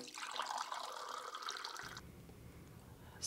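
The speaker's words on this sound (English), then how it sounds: "Pour water into the back of the coffee machine." Water from a coffee pot pours into the back reservoir of a drip coffee machine, a steady close splashing stream lasting about two seconds before it stops and a low hum remains.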